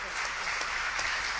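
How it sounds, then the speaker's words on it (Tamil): Audience at a villupattu bow-song performance claps for the accompanying musician in a brief, dense round of applause, with a few sharper individual claps standing out. "ஒரு பலத்த கரகோஷம்."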